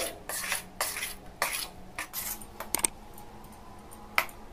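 Rice and lentil batter for Kerala idli is stirred by hand or spoon in a bowl, giving soft, wet swishes and a few sharper taps in an irregular rhythm, close and quiet, with no voices.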